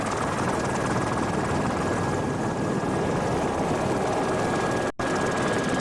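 A camera helicopter hovers over a 1986 offshore powerboat race off Islamorada, Florida, its rotor and engine roar steady, loud and close throughout, with a brief dropout near the end.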